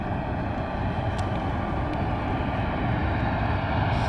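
A continuous broad roar of an airplane landing at Corfu airport, Greece, steady and fairly loud with wind-like rushing throughout.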